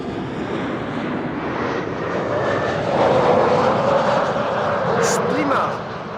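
A LOT Embraer 190 arriving at Amsterdam Schiphol from Warsaw roars steadily overhead, its engine drone swelling toward the middle before easing off, with a faint higher whine riding on top.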